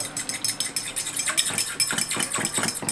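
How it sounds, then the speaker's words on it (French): Rapid rhythmic metal clinks of a whisk beating a mustard, black pepper, coriander and cumin dressing for a lentil and tuna salad in a bowl, quick close strokes, no talk. "On va fouetter notre sauce."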